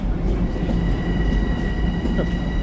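An M7 commuter train runs close by at Babylon station, with a loud continuous rumble of rolling wagons, faint wheel squeal and rail clatter throughout.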